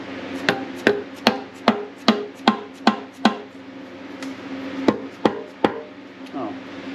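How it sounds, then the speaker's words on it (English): A string of sharp metallic hammer knocks on a VW Bus engine part, about a dozen evenly paced strikes, then a pause and a few more blows, close by. "Maybe we need a little bit of a hammer."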